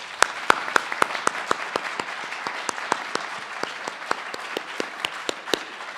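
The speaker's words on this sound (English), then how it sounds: "You should be applauded, and let's do that right now." Rhythmic, evenly spaced claps ring out through a mayoral debate hall, a steady patter of sharp hits about every quarter second over a soft room hiss, moderately close and alone without talk.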